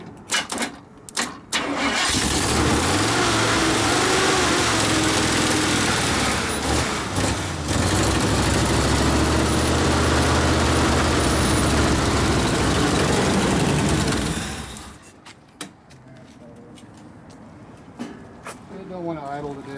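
A Chevrolet 396 V8 in an El Camino/Chevelle with a worn-out carburetor, cranking and firing up into a loud, rough, uneven idle that roars steadily for several seconds before cutting out, followed by a few clanks and faint background noise.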